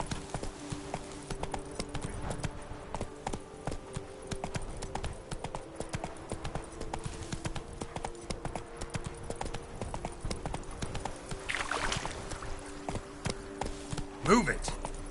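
Horse hooves clip-clop in a steady rhythm while riding in The Witcher 3: Blood and Wine, continuing throughout with game music and faint voices layered over the hoofbeats.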